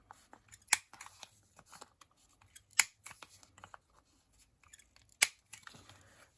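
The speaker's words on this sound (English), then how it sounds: "And I'm going to round the corners." Sharp paper-cutting snips from a small corner rounder punch rounding the corners of a 3x6 inch paper specimen slide, three distinct crisp clicks spaced a couple of seconds apart with faint handling rustle between, close and quiet.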